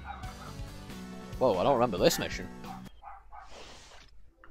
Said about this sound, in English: You can probably hear my puppy right now.